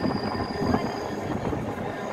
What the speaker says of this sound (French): Regardez, là on voit le train jaune